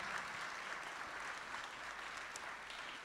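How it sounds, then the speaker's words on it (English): A crowd applauds steadily throughout, a dense wash of clapping at moderate distance with no break. "round of applause for that"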